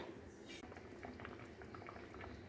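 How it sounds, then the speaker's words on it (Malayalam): Fish curry bubbles at a steady boil inside a covered pot, a close, continuous crackling simmer with no voices over it. "മീൻ മൂടി വെച്ചു, നല്ലതായിട്ട് തിളയ്ക്കട്ടെ."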